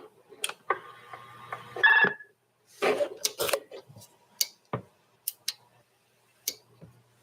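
A two-way radio's roger beep plays as a short electronic tone sequence lasting about a second, fairly faint and followed by a higher chirp, surrounded by scattered sharp clicks from button presses.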